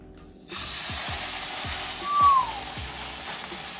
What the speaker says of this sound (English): So I'm gonna put my roast in it just to brown it.